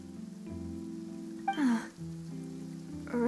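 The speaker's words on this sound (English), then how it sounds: "It's raining." Steady rain pours down in a Genshin Impact scene in the Fontaine region, a constant hiss beneath a sustained tonal game soundscape with brief swelling musical accents.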